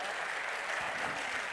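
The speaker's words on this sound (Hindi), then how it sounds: "तालियां आपकी कमज़ोर हैं।" Audience applause at a Hindi comedy poetry show, a fairly quiet, even wash of clapping for a short moment with no clear standout claps.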